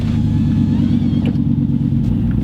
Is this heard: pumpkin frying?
no